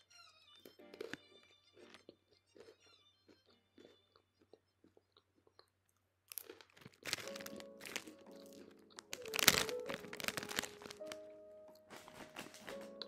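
A long cheese pretzel from Poland is bitten and chewed close up, with a few soft crinkles at first and then a dense run of loud crunching and chewing, without talk.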